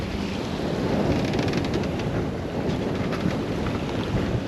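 Strong wind rising over a sailboat at sea with a reefed mainsail and genoa, a constant loud rush of wind buffeting the microphone over waves and hull noise, with no talk.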